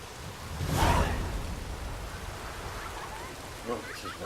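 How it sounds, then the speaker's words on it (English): Rain falling in The Witcher 3: Wild Hunt on PC, a steady hiss of rainfall with a swelling rumble near the start, while game characters talk faintly over it. "Well, it is raining."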